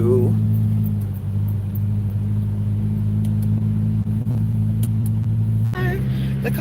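A car pulls out of a snowy driveway with a low, steady engine rumble close by, while a person talks over it throughout.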